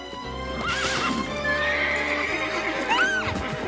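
A horse neighs and whinnies twice over the steady clip-clop of hooves on a riding trail, a TV sitcom scene with background music.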